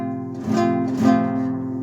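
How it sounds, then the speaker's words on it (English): Suzuki classical guitar with nylon strings, tuned down to D and still settling into tune, played acoustically: a few sustained, bassy strums ring out close and clear with no talking. "But acoustically, guitar sounds like this"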